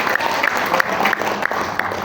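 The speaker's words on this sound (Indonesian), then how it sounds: "Aplaus dong Bapak Ibu." An audience applauds, scattered claps popping out in an uneven rhythm over a moderate background murmur, with no clear speech.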